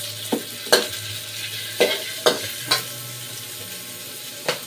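Onions fry in oil in a pan with a soft, steady sizzle, punctuated by several sharp scraping stirs of a utensil at irregular intervals.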